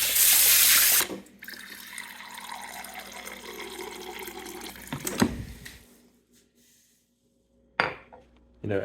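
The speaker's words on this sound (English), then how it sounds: "every single night I pour myself a glass of water" Water gushes loudly from a kitchen tap into a glass for about a second, then quieter clinks and handling sounds follow, with a brief bump and a short splash near the end.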